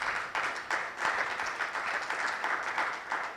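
A conference audience gives a round of applause for panelists at a business event, a brief, fairly steady burst of many hands clapping in a hall, moderately loud and unaccompanied by speech.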